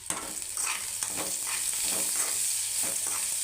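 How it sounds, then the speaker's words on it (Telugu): Steady sizzle of frying while cooking coconut-milk rasam, continuous and fairly loud, with occasional stirring scrapes through it. "ఇది వేగుతుందండి"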